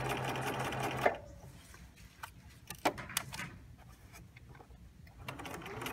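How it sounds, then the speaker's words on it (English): A sewing machine runs in a steady burst for about a second, edge stitching fabric along a lapped zipper, then stops. Light handling clicks and taps of the fabric and machine follow, close and quiet, with no talking. "We're just stitching on the lip. That's called edge stitching."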